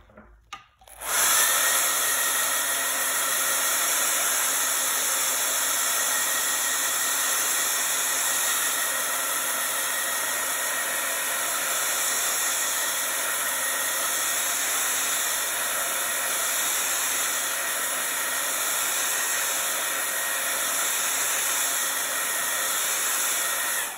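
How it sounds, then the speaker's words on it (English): A handheld blow dryer drying a coat of paint on a sunflower Americana barn piece switches on after a short click, then holds a loud, steady motor whir with a high whine for over twenty seconds. "I'm gonna give this a blast with my blow dryer"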